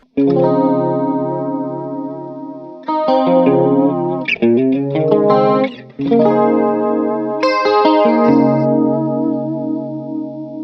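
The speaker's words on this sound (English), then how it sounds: "I like to use the second position on the Strat when I use the chorus." Fender Stratocaster in the second pickup position plays sustained chords through a chorus pedal, the shimmering doubled tone ringing loud and clear, with a few quick strums and chord changes and no talk.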